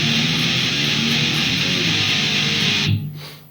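Heavily distorted metal electric guitar chugging a chorus riff, a dense, loud wall of palm-muted low notes that cuts off abruptly near the end.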